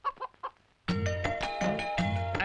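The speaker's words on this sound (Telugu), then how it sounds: "కోడి దూకింది చూడు ఎదవా." A chicken clucks after jumping, a few short soft clucks followed by loud, close, repeated squawking calls in a quick burst.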